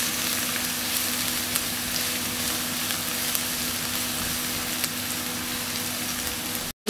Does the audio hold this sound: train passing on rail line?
no